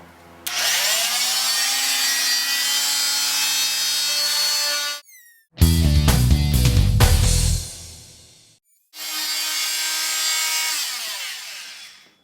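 Wood block clamped to a table edge being cut with a power saw: two long steady whining passes, near and loud, split by a short rough grinding burst and brief pauses, with no one talking.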